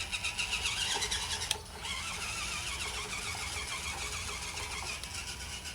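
A small FTX Outback Mini 3 1/24-scale RC rock crawler's electric motor whirs steadily on its second speed setting, a continuous high whine with a brief dip partway through, close and fairly loud with no talking.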